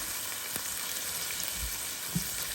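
Chopped ingredients fry in a pan for penne all'arrabbiata, giving a faint, steady sizzle with a couple of soft low knocks from stirring, and no one speaking.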